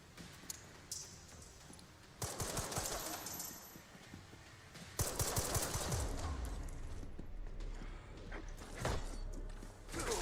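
Gunfire in Resident Evil Requiem, the video game: bursts of rapid, quiet shots in two main volleys with scattered single cracks between, set against a low game background.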